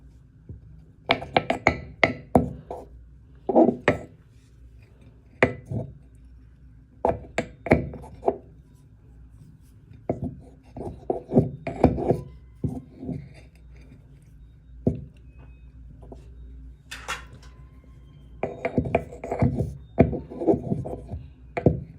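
Hard pill being ground down with a tool, giving irregular bursts of close gritty scraping and crunching strokes with short pauses between them, no talking.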